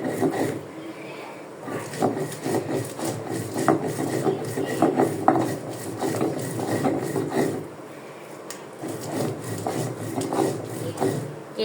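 Mustard seeds are ground on a stone while making an olive mash. The grinding comes as repeated rough, scraping strokes in steady bursts with brief pauses.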